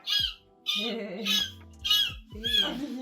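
A person's voice imitates a seagull, letting out about five loud, harsh squawking cries in close succession with short gaps between them.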